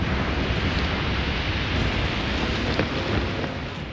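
A heavy thunderstorm over Lake Erie, dense steady rain with low rumbling thunder, loud and unbroken with no voices.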